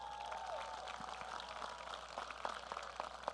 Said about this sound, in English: Can everybody give me a round of applause for my best friend?